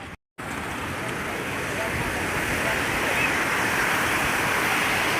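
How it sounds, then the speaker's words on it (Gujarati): The Saraswati river at Siddhpur runs high after a heavy flow, a loud, steady broadband rush of water with wind buffeting the microphone, continuous after a brief silent gap at the start. "તો જુઓ પાણી કાલે બહુ આવ્યું હતું"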